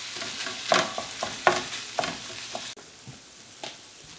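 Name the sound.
sausage cooking and being mashed in a pan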